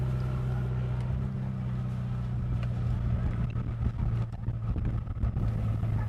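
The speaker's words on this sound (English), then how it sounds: "The noise of trucks and other heavy machinery is ever present" Trucks and heavy machinery grind and rumble steadily at a large municipal garbage dump in Cambodia, a continuous low engine drone close by with shifting mechanical noise throughout.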